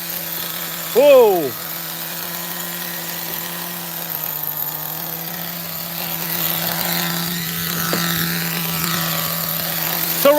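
An OS nitro engine in an RC car idles with a steady buzzing drone that holds evenly throughout, with a brief exclamation from a voice near the start.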